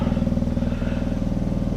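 Briggs and Stratton 900 series small engine running just above idle, a steady close, loud putter with an even rapid firing rhythm and light mechanical clatter throughout.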